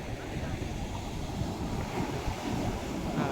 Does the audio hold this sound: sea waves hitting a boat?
yes